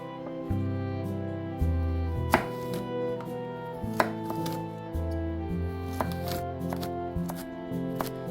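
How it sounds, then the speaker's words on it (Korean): A knife chops steadily through an onion on a cutting board, crisp repeated cuts at a moderate pace, close and quiet, no talking. "양파 한 개를 먹기 좋은 크기로 또 잘라 보고요"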